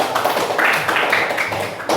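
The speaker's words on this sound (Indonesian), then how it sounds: "berikan tepuk tangan dulu untuk kelompok 3" A classroom of pupils gives a round of applause for a group, a short, uneven spatter of clapping with distinct sharp slaps standing out in brief bursts.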